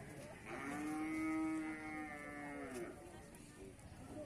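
A thin cow at an Indonesian cattle market gives one long, drawn-out moo with a wavering pitch, loud and close. It fades into quieter background noise at the end.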